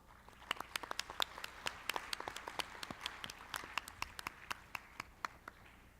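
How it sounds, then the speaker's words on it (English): A conference audience gives a round of applause to welcome the moderator and speakers of a roundtable session on governance. It is a faint, distant patter of scattered claps with sharper individual claps standing out throughout. "please welcome him and the speakers for this session with a warm round of applause"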